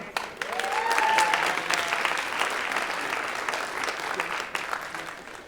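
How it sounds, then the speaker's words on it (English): A high school audience at a writers' event claps in sustained applause, with a few sharp close claps at the start and a faint voice calling out early on, gradually tapering off. "please put your hands together."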